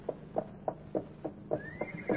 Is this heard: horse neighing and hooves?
yes